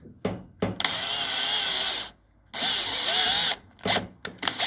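A power drill whirs in loud sustained bursts, stopping and restarting several times as it drives a screw into a PVC window lock, with short pauses between runs.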